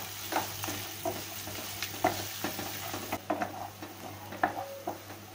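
Finely chopped onion sautéing in a pan for dal kairi, a continuous sizzle broken by regular scraping stirs and light spoon taps, close and clear.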